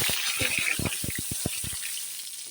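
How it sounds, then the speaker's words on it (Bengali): Whole cumin seeds and two dried red chillies sizzle in hot oil in a wok, a bright steady hiss broken by quick clicks and taps of a utensil. "কড়াইতে তেল গরম হয়ে গেছে তেলে দিয়ে দিলাম আমি গোটা জিরে দিয়ে দেবো দুটো শুকনো লঙ্কা"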